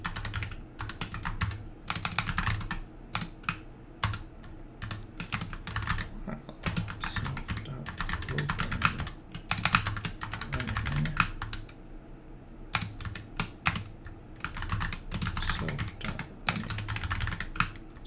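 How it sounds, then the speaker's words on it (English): Rapid bursts of typing on a new computer keyboard, close and crisp, with short pauses between flurries of keystrokes and no one speaking. "Still getting used to my new keyboard."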